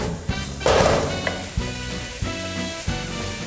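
Blue crab sizzles and crackles as it is sautéed in a pan, with steady frying hiss and repeated clatters of stirring utensils against the pan.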